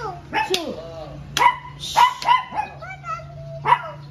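A dog at a market barks repeatedly, about five sharp barks spaced irregularly, close and loud, with a steady low hum underneath.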